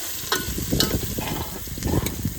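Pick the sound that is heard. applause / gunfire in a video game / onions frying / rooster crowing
onions frying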